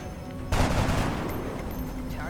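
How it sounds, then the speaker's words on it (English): Gunfire in the turn-based strategy game XCOM: a sudden burst of loud shots that cuts in and rolls on over a dense background for nearly two seconds. "Okay, might as well reload, then shoot."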